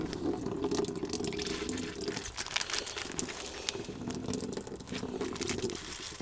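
Liquid drains out of a worm compost bin in a continuous close trickle and patter with some crinkling, running steadily throughout with no talk.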